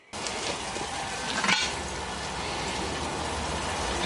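Chicken thigh strips sizzle in a hot camp oven as a piece is dropped in, a sudden, steady, close frying hiss that holds evenly throughout.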